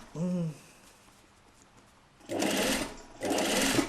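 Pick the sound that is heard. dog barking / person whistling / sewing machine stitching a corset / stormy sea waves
sewing machine stitching a corset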